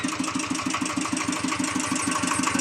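A farm tractor's engine idles steadily and close by, a continuous rhythmic chugging throb that stays even and loud throughout, with no voices over it.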